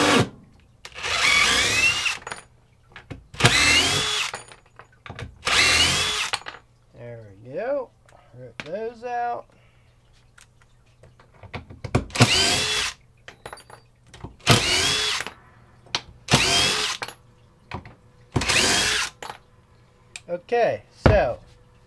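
A Craftsman CMCF820 brushless V20 impact driver runs in a series of short, loud bursts, about ten separate runs with silent gaps between them, and a voice speaks briefly partway through.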